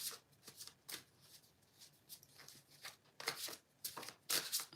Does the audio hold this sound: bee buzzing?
no